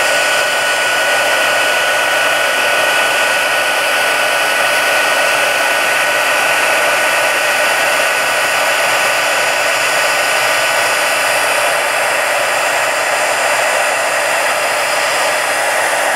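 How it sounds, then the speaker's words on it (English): A heat embossing tool blows hot air in one loud, unbroken whoosh that runs steadily from start to finish, with no talking. "let's turn the heat tool on"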